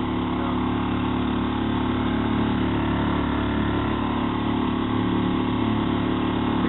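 A small speedboat's outboard engine drones steadily and loudly on a lake near Aukštadvaris in Lithuania, a constant mid-pitched hum with no breaks and no voices.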